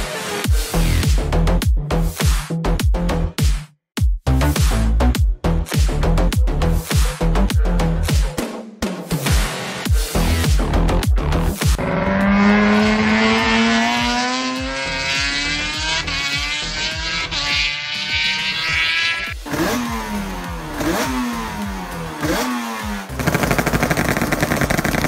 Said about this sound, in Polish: Ten dwusuwowy motocykl wyszedł spod ręki Eskila Sutera